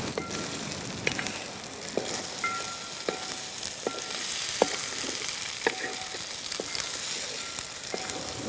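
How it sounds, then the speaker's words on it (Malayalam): Butter prawns fry in a pan in a village kitchen, giving a steady, close sizzle. A spoon stirring and scraping adds sharp clicks roughly every second. "നീ കൈവിടാതെ ഇളക്കണേ"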